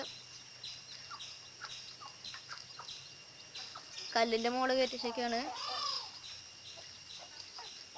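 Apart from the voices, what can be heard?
chickens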